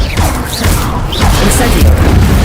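Accio summoning spell cast in the Hogwarts Legacy video game, loud booming, whooshing magic effects with heavy low thumps and swelling rushes, mixed with in-game voice sounds.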